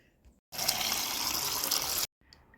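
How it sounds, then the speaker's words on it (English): Water pours from a tap into a seed-starting container in one steady gushing stream lasting about one and a half seconds, close and clear, framed by quiet. "Now we're going to add some water to this."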